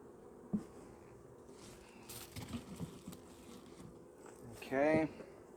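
Honey bees buzz around an open hive during an inspection, a soft steady hum with a few louder passes near the microphone, one close buzzing bee standing out briefly, and people speaking quietly at times.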